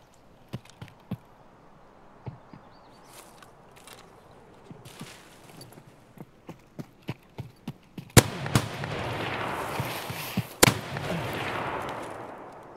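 SVD rifle shots in the Escape from Tarkov video game, several sharp separate cracks spaced over the stretch, with two louder blasts near the end over a rising noisy background.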